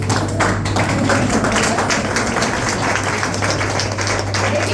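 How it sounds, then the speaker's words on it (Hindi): Standing audience clapping vigorously and steadily at an indoor gathering, a loud continuous wash of claps over a constant low hum, with no voices on top. "सो मैं चाहूंगी कि एक बार खड़े होके सरिता मैम के लिए तालियां बजाएं"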